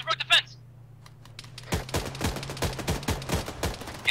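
Gunfire in the video game Arma 3, a few early shots followed by a rapid run of sharp cracks spaced irregularly, moderately loud over a faint steady hum.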